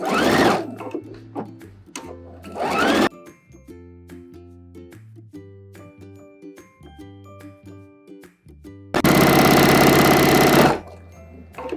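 A sewing machine stitches a sleeve casing for a puff sleeve dress in two separate loud runs, one at the start and a longer one near the end, with quieter mechanical tones and a soft musical backing between them.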